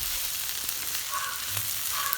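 Ingredients for Mughalai chicken fry in a pan with a steady, close sizzle and hiss, plus a few light scraping stirs.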